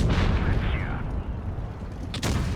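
Tank main gun firing a shell in WoT Blitz, a heavy booming report near the end over dense rumbling game noise, with someone talking through it.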